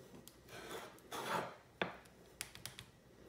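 Polymer clay being cut with a cutter gives a quiet rasping scrape, then a short sharp click and a few faint taps, close and soft.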